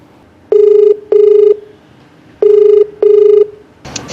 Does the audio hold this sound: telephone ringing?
yes